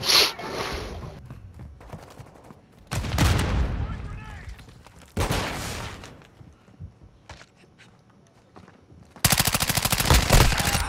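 Call of Duty Modern Warfare 2 gunfire erupts in loud bursts of rapid automatic shots, several separate volleys spread through the clip, with faint game sounds between them.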